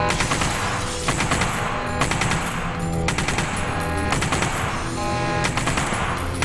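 Rapid automatic gunfire from a gun in The Punisher video game, loud and sustained bursts of machine-gun shots rattling on without pause.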